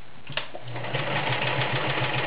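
A 1941 Kenmore convertible sewing machine in near mint condition stitches through six layers of denim with a size 16 needle, its steady motor hum and rapid needle clatter starting after a brief pause and running on evenly close by.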